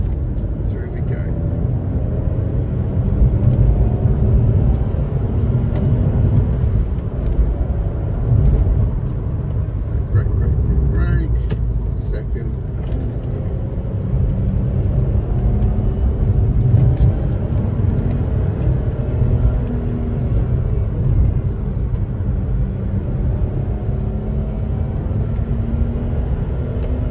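Engine of an old automatic car driven fast while braking and dropping from third into second, a steady loud engine and road drone with a rising and falling pitch, with someone talking over it.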